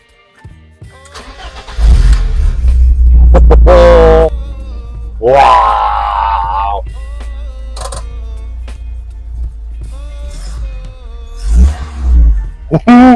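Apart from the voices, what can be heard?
BMW E30 Cabrio engine starting and revving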